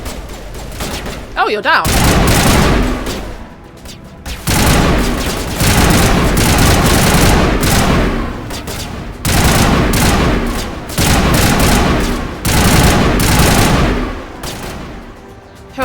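Gunfire in Mass Effect Legendary Edition, loud bursts of rapid automatic shooting in several long volleys with short gaps, someone speaking briefly near the start.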